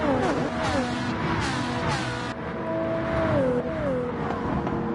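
A Toyota GR4 Supra Group 4 race car drives a lap of Trial Mountain in a racing game, its engine note loud and close, rising through revs and dropping on shifts, with brief tire squeal.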